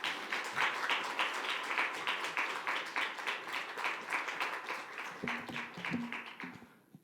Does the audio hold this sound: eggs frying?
no